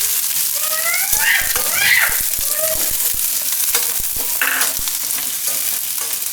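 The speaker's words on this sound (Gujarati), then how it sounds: "તો તેલ આપણું ગરમ થઈ ગયું છે. એમાં નાખી દઉં આપણે આ લસણ. લસણ નાખીને ડુંગળી." Garlic and onion hitting hot oil, producing a loud, steady sizzle with stirring clatter and spoon knocks throughout, close up; a voice speaks briefly over the frying.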